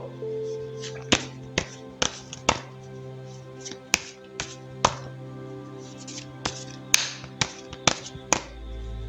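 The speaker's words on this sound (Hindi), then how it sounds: "तो चलिए पहले ज़रा कार्ड्स को शफल कर लेते हैं" Tarot cards being shuffled by hand, a series of sharp, distinct card slaps and snaps at irregular intervals, close and crisp over a quiet steady background hum.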